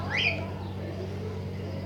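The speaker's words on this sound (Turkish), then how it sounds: "Arkadaşlar bir de kuşlar çok ses çıkarıyor." Two parrot chicks give a brief, fairly loud high chirping call near the start, then quieter, thinner calls continue over a steady low hum.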